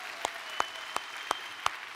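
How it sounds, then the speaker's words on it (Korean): A church congregation's clapping in praise: five sharp, evenly spaced handclaps in a steady rhythm, fairly close and clear over a quiet room, with no talking. "우리 하나님께 영광의 박수를 드리도록 하겠습니다."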